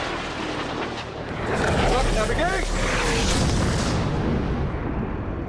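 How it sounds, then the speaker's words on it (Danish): A Taliban rocket explodes nearby in Afghanistan. The boom swells into a broad, loud roar that rumbles on for several seconds, with noisy background around it. "Taliban-raketten rammer skræmmende tæt på."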